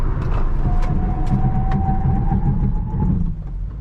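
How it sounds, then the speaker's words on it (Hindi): Honda Elevate braking hard from 120 km/h, heard from inside the car as a loud, steady road and tyre roar with a thin rising squeal running through the middle, easing off at the end. "Honda elevate breaking eight 120।"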